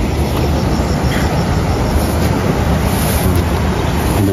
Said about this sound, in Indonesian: Inilah keadaan sungai di sini